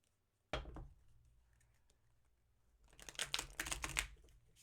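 Tarot or oracle cards being shuffled by hand, a single sharp riffle snap near the start, then a dense fluttering burst of card riffling toward the end, close and fairly soft, with no talk over it.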